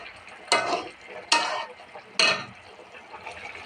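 Curry of dried fish and eggplant with green chilies cooking in a pan, three bursts of loud sizzling at a slow, even pace as the food is stirred, each fading into a quieter bubbling fry.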